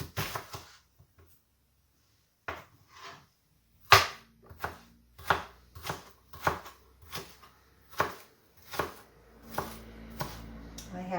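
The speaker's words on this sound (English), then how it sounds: "First I'm going to chop some onion." A knife chops red onion on a cutting board, a steady series of sharp close knocks, irregular at first and then settling into a fairly even rhythm after a short pause.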